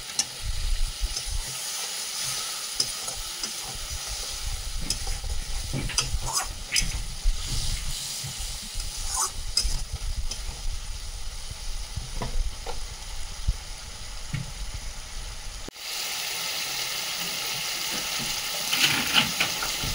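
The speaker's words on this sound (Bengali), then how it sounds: "এবার এটাকে ভালো করে আমি কষিয়ে নিব" Shrimp masala with turmeric and a splash of water fries in a pan while it is worked with a spoon. Steady sizzling runs under repeated scraping stir strokes, and the frying hiss brightens near the end.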